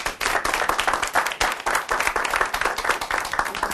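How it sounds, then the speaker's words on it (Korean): An audience claps and applauds to welcome a speaker to a lecture stage, with dense, lively, sustained clapping throughout and no voices. "큰 박수로 맞아주시기 바랍니다."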